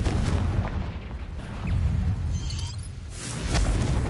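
A Confringo fire spell detonates in Hogwarts Legacy, a loud, dense rumbling blast with booming low-end bursts around the start, middle and end, no voices present.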